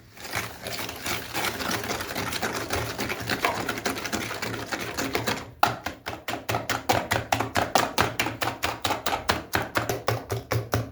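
Beaten egg mixture with sugar is whisked hard in a bowl, first as a dense continuous clatter, then as quick, evenly spaced strokes that tap out a steady rhythm.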